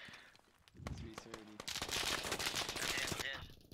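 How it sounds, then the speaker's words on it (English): Machine gun fire in the military shooter game Squad sounds in a loud sustained burst of rapid shots after a few scattered earlier reports, close and dense, then tapers off. "Crap, where's that machine gunner at?"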